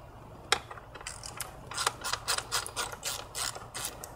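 Ratcheting wrench clicks in quick bursts as a T30 bolt is backed out of a coolant pipe bracket on a VW/Audi 2.0T TSI engine, close and fairly quiet with no talking.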